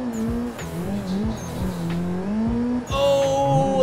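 A car drifting in the Assetto Corsa racing game, with a loud revving engine that rises and falls between gears and a long tire squeal held through the slides, close and continuous.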